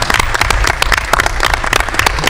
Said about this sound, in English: round of applause for those boys